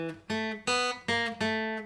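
Guitar playing a short phrase of the Super Mario theme, several clear plucked notes in a quick, bouncy rhythm, each ringing briefly before the next, played alone at close range.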